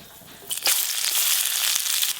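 Chopped onions drop into hot oil already tempered with whole garam masala, setting off a sudden, loud burst of sizzling hiss that holds for about two seconds.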